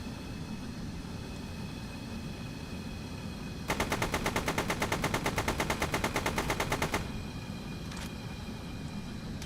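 Rapid automatic fire from a tank's gun in StormWorks, a fast, evenly spaced burst of shots lasting about three seconds over a steady engine rumble, with the vehicle idling before and after.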